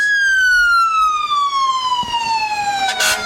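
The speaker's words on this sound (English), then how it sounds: "Well, we're right here at the sirens." Emergency vehicle siren in a Christmas parade, a loud close wail sweeping steadily downward in pitch over a few seconds, with a burst of crowd or street noise at the end.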